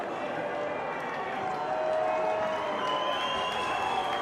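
A partisan home crowd at a 2024 first-grade rugby league grand final in Woolgoolga cheers, a broad, steady roar of noise and applause that swells slightly partway through, with a commentator talking over it.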